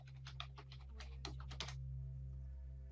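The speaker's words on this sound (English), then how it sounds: "So we type in our password," Quick keystrokes on a computer keyboard entering a password at a Raspberry Pi login screen, about a dozen soft clicks in a brisk run, then quiet with a steady electrical hum underneath.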